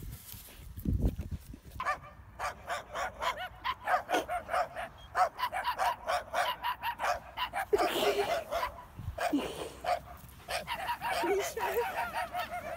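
A large Newfoundland dog barks in a long, rapid series of loud, closely spaced barks. Faint voices sit under the barking.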